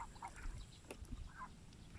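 Ducks being fed loaf bread outdoors at a country dacha let out a couple of faint, distant quacks against a quiet background.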